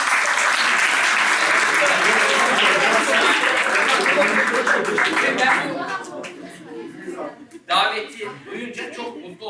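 An audience at a youth career event applauds for Yasin Yılmaz, loud dense clapping that gradually thins and fades, giving way to scattered claps, chuckles and voices talking near the end.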